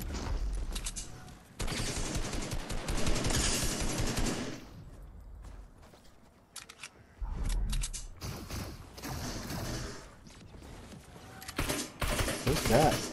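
Rapid video game gunfire, loud sustained bursts broken by short quiet gaps, with a player talking in between.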